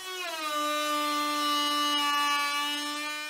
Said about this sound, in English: So I'm using the trim router with a rabbeting bit.